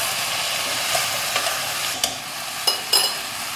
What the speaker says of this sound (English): Okay, we'll give it a stir.